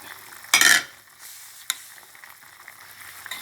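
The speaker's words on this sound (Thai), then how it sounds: "สุกแล้วนะคะใบโหระพาลงเลยค่ะยี่สิบยอด" A spoon stirs basil leaves into a Thai red curry of tilapia and pumpkin in a pan, with one brief loud scrape and a soft sizzle continuing underneath, close up and without speech.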